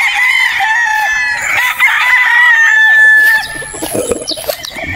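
Roosters crowing loudly and close in a chicken yard, long crows overlapping with hens clucking beneath, no talking.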